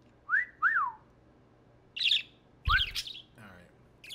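A small pet bird lets out a happy chirp: a few bright, close whistled tweets and squawks in short bursts with pauses between, and a person speaks briefly among them.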